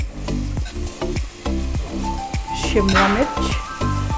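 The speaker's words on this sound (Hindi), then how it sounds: "ज़्यादा सब्जियों को तलना नहीं है, बस हल्का सा सौते करेंगे" Vegetables including capsicum and onion sizzle loudly in a pan for a pav bhaji base, a steady bright hiss broken by rhythmic stirring scrapes, with a voice and background music running under it.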